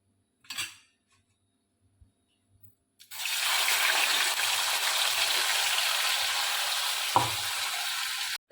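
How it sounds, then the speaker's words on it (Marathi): Ground masala hits hot oil in a kadhai and bursts into a loud, steady sizzle that holds to the end, after a brief clatter and near-silence before it. "कढईमध्ये तेल घातलेलं आहे तेलामध्ये मी मसाला घातलेला आहे"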